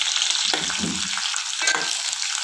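Brinjal curry with cumin and curry leaves stirred in a sizzling pan, two short scraping stirs over a steady frying hiss; no voices.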